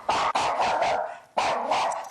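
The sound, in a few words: dog barking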